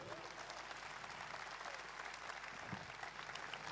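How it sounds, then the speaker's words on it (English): Large crowd applauding at a stage show with more than a thousand performers, a dense continuous roar of clapping that holds level from start to finish, no voices on top. "Give a round of applause to all of them"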